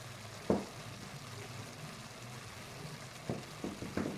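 Shahi zarda sweet rice simmers in a pot over a very low flame, a faint, steady hiss with a few soft clinks and stirring knocks near the start and end.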